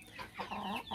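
A young imported male chicken gives a short burst of clucking calls up close, a couple of quick notes within under a second, alone without talk.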